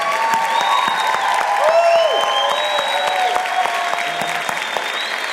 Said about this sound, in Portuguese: vorrei invitarvi ad applaudirla.